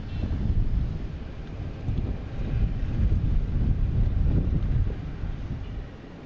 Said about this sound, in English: Oh, we got a JetBlue coming in here.